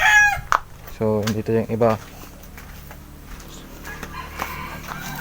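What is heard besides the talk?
birds (fowl) being handled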